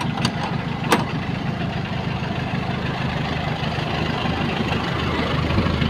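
A passenger van's engine runs steadily as it departs, a continuous low, close rumble and idle-like drone with no break across the whole stretch.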